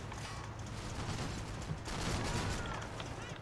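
A tank in a video game fires a steady stream of gunfire amid dense mechanical clatter and rumble, a continuous loud barrage with no clear gaps.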